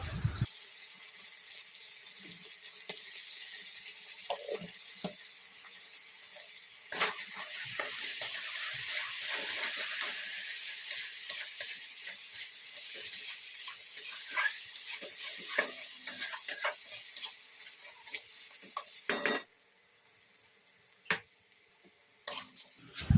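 Ground chili powder, turmeric and salt frying in a pan for a Katla fish broth, a steady close hiss with scattered stirring scrapes, swelling midway, then dropping off to near quiet with a few last clinks near the end.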